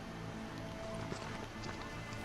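Robot horse hooves from the video game Horizon Zero Dawn clop in a quick, faint rhythm within a soft game soundscape of ambient hum and scattered effects.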